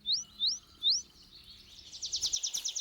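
A tree pipit singing in open Senne forest grazed by cattle and horses: three rising whistled notes followed by a quick, rhythmic trill of bright repeated chirps, clear and fairly close.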